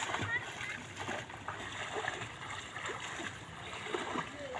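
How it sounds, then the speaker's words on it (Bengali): Water splashing steadily in a pond as two men wade in and pull a fishing net, with intermittent churning sloshes under background voices. "মামাবাড়ি পুকুরে জাল পেতে শালা আর জামাইবাবু মিলে দুইজনে বেশ সুন্দর মাছ ধরছে।"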